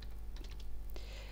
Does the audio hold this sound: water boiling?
no